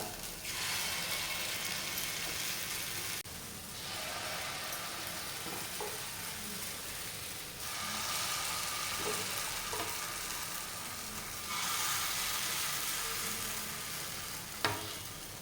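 Appe batter made from rice and chana dal sizzles steadily in hot oil in an appe pan, a loud, continuous frying hiss that swells in several waves, with a faint clink near the end and no talking.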